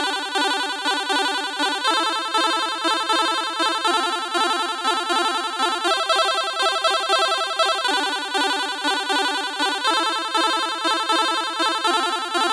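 Fast chiptune-style arpeggios from a Yamaha MODX synthesizer run continuously with a bright, buzzy, dense tone, shifting register every couple of seconds as the note velocity swells in a crescendo.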